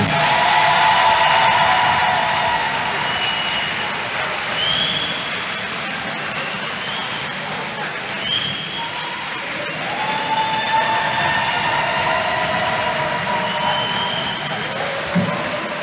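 An audience applauds at a graduation ceremony for the first class of a professional nursing degree: a steady wash of clapping and crowd noise fills the room throughout, with faint tonal sounds running underneath.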